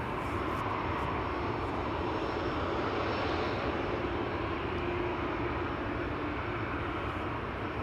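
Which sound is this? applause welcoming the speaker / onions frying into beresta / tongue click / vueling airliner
vueling airliner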